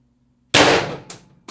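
A single sharp shot from a Pistelle X-68 airsoft pistol firing 10g .684 ammo, a sudden loud crack after silence that rings out briefly, followed by fainter clattering echoes.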